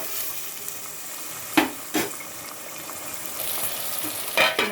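Cucumber pieces sizzling softly in a pan, with a few sharp scraping clinks of a spatula stirring over a steady low fry.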